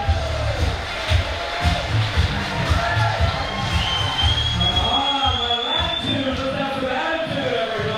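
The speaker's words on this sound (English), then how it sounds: "Give a big round of applause for Mr." Comedy club audience cheering, whooping and applauding for a headlining comedian, a dense, loud wash of crowd noise with rumbling low bursts, continuous throughout.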